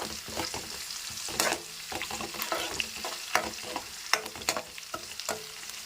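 Curry leaves crackle and spit in hot oil, with sharp popping bursts and stirring clatter over a soft continuous sizzle, close and fairly quiet, with no talking.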